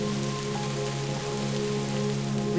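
Rain falls steadily on parched, drought-stricken land, a continuous, even hiss of drops with no break and no voices.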